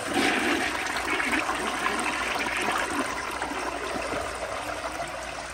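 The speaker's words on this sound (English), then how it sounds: "But here is a flush with the broken trapway exposed." A 1984 round Lamosa Atlas toilet flushes with its broken trapway exposed, water rushing and gushing loudly and steadily from start to finish, close by, with no talking.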